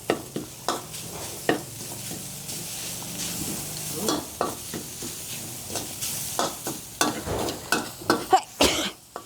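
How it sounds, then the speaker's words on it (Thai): Thai curry paste is stir-fried in a spoonful of oil for a tilapia chili dish, a close, low sizzle broken by a steady run of sharp scraping strokes against the pan, with no talk. "ผสมพริกแกงลงไปค่ะคั่วด้วยค่ะ พี่น้องคั่วคั่วคั่ว คั่วกับน้ำมันไปช้อน ใส่น้ำมันนิดเดียวค่ะ"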